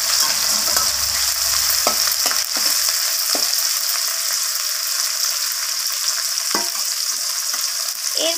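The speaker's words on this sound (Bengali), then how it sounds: "এরপর টমেটোটাকে দিয়ে এইভাবে নাড়াচাড়া করে টমেটোটাকে একটু ভাজা ভাজা করে নিতে হবে" Tomato sizzles as it is stir-fried in a pan, a close, steady hiss of hot oil broken by several sharp scrapes and taps of the spatula against the pan, with no voices.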